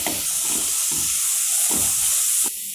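Frozen peas and corn sautéing in a pan with a little oil, a constant loud sizzle and hiss with soft periodic stirring scrapes, close up and steady throughout.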